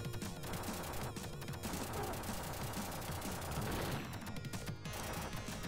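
Rapid, continuous machine-gun fire from the Terminator 2 arcade shooter on the Sega Genesis, dense and unbroken across the whole stretch, with a brief crash-like burst toward the end.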